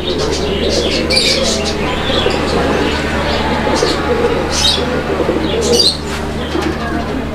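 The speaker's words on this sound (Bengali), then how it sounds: "এটা হচ্ছে বিউটি হোমার কবুতরের একটা জোড়া, আর নরটার ডাক আপনারা দেখতে পাচ্ছেন, অনেক সুন্দর ডাকের একটা নর কবুতর।" A male Beauty Homer pigeon coos among a pair of fancy pigeons in a loft, low repeated cooing layered with steady background noise and occasional wing or chirp sounds, with someone talking over it.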